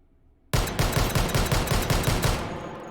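Rapid .50 AE Desert Eagle pistol shots in the H3VR virtual reality shooting game, a fast string of about a dozen loud sharp reports fired in quick succession after a moment of near silence, ending with a fading tail.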